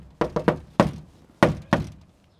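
Knocking on a door ahead of a meeting: three quick raps, then a single knock, then two more, all close and sharp with a short ring, and no voices.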